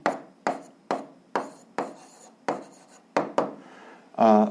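Pen strokes on paper while writing down an answer, a run of about nine short, evenly spaced scratches, close and distinct, each one fading quickly, with a brief harsher rasp at the very end.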